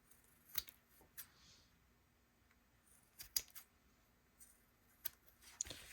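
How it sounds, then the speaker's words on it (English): Scissors trimming the corners of sewn fabric make several sharp, quiet snips spaced irregularly, with near silence between cuts. "I am going to trim my corners."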